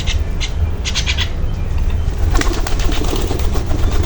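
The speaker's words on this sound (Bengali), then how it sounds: "কবুতরটা খুব ডিস্টার্ব করছে কবুতরটা আসার জন্য পাগল হয়ে গেছে" Pigeon cooing in a village home where a pet myna is kept, soft repeated coos over a steady low background hum, with a few brief chirps and fluttery sounds near the middle and later.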